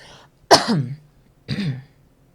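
A man clears his throat and coughs twice, in two sharp, close bursts separated by a short pause.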